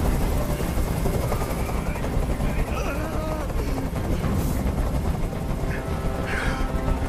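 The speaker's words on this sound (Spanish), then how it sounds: "¡Haz que ese helicóptero se vaya!" A helicopter hovers in the video game Detroit: Become Human, droning continuously in a dense, loud wash of rotor noise, with scattered bursts and effects layered over it.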